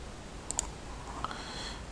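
A few faint, crisp computer mouse clicks while placing a point in geometry software, two close together and then a couple more spaced out over a low background hiss.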